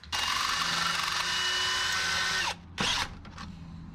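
A $3 drill bit bores into a $300 carburetor on a 1961 Chevrolet Parkwood wagon, a loud steady power-drill whine for about two and a half seconds, then a brief pause and a short second burst.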